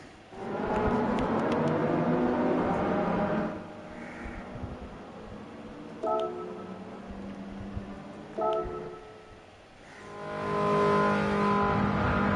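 A Ferrari 308 GTB engine in Gran Turismo 7 roars loudly at high revs, dropping and climbing again through several gear shifts, with no talking.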